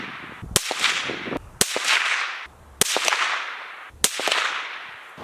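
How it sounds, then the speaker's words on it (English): A rifle fitted with an RMS2 Hopaii suppressor fires a five-round group: four sharp cracks spaced about a second apart are heard, each with a short fading tail, and no one talks. "fired another 5-round group"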